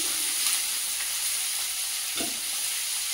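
Snake gourd, washed, hits a hot pan where prawns were lightly fried with salt and turmeric, giving a steady close sizzle with a brief louder burst of frying as it lands, no talking.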